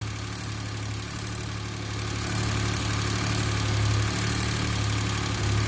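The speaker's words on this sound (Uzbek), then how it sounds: "Shundan so'ng hammasini qayta yig'ib, dvigatelni ishga tushirib ko'ramiz." A rebuilt Daewoo Tico car engine idles steadily after starting, a low, even mechanical hum with a constant droning tone that swells slightly louder partway through, with no talking over it.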